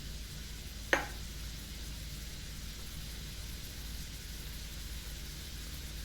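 Vegetables with Creole seasoning and parsley fry in a wok with a constant, quiet sizzle, and a single sharp tap of a utensil comes early on.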